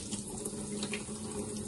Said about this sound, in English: For 1 minute, we're going to rinse it in cold water